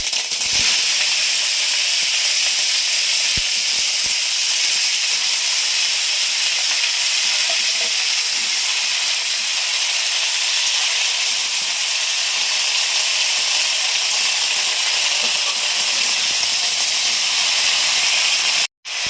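Vegetables sizzle loudly in hot oil with ginger paste for a Bengali fish-and-mixed-vegetable curry. A steady, close hiss runs unbroken for nearly twenty seconds, with a sharp cut-off at the very end.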